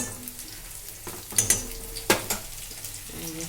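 Onion, garlic and chili frying in oil in a pan, a steady low sizzle with a few sharp scrapes and clinks of a utensil stirring, close by and fairly quiet.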